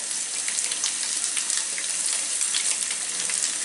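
Chopped garlic, onion and green chili sizzle steadily in plenty of hot oil for a Bangladeshi dried loitta fish dish, a close, continuous crackling fry with no voices.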